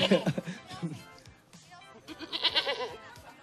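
A goat bleats in short wavering calls, mixed with people talking and chuckling nearby at a moderate distance.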